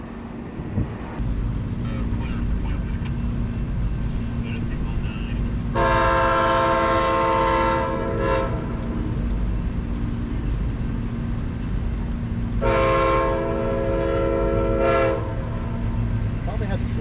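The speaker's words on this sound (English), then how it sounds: "a little slower moving Amtrak Floridian today" The Amtrak Floridian passenger train rolls slowly past in Plant City, Florida, a continuous rumble of wheels and cars, with two long, loud multi-tone horn blasts sounding several seconds apart.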